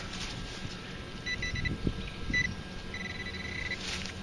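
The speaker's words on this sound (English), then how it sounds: "It was ringing up like there may have been a coin down there." A Minelab CTX3030 metal detector on the smooth audio setting giving short, faint electronic signal tones in a few brief bursts, over rustling from digging outdoors.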